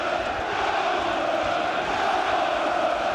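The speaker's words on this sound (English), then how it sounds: "noise the like of which Craven Cottage hasn't heard for a long time" Football crowd roaring at Craven Cottage as Fulham press Liverpool, a dense, sustained wall of loud cheering and chanting from the stands that holds steady throughout.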